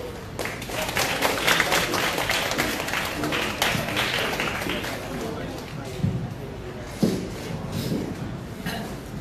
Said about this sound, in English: Clap your hands for group number 2